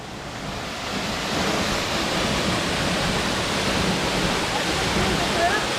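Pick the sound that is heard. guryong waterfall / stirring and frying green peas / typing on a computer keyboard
guryong waterfall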